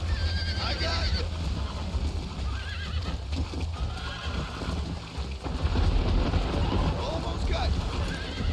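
Horses in Red Dead Redemption 2 whinny and snort over clip-clopping hooves and wind noise, with people talking throughout and a louder burst near the end.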